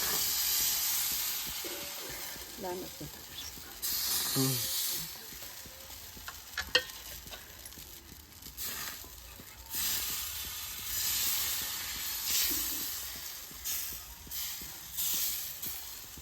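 Batter sizzles on a hot tawa in a steady, soft frying hiss that rises and falls, with faint scraping and stirring clicks and no talking.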